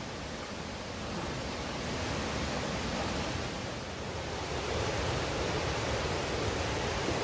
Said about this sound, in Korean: 폭포가 아주 좋네요